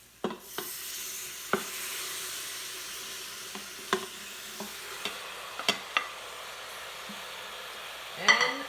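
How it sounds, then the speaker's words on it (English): Steak dropped into a hot pot for a beef rendang stew, a quiet background sizzle dotted with scattered clinks and scrapes of stirring, ending in a louder hissing sear as the meat hits the pot. "Okay, so now I am going to add the steak."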